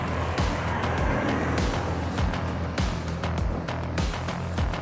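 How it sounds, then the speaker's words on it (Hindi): A Toyota Hilux on Michelin tyres climbs an off-road slope, its engine a loud, close, continuous roar with rhythmic surges and knocks as it labours upward, with no talk. "अब देखेंगे अपनी गाड़ी मिशलिन के टायर के साथ में कितनी ऊपर चली जाती है"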